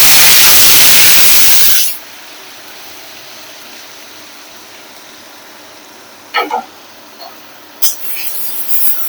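Onion paste hits hot white oil spiced with whole garam masala in a wok, giving a loud burst of sizzling that quickly drops to a quiet simmer, with a couple of brief clatters near the end.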